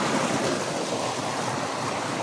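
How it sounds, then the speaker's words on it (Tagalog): Water trickles and runs steadily on a mountain gold-panning site, a continuous close wash of flowing water with no voices. "Tumutulo yung tubig dito sa kabilang side."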